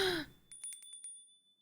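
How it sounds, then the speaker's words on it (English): A small Japanese bell is struck lightly about five times in quick, uneven succession, each chime clear and high and leaving a thin sustained ring that fades out, after a soft breathy sound at the start. "For those, I recorded lots of takes with this Japanese bell."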